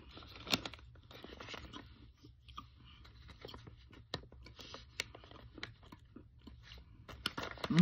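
Soft, brittle crunches of edible clay being bitten and chewed close to the mic, scattered clicks and crunchy bursts in a quiet room, with no talking.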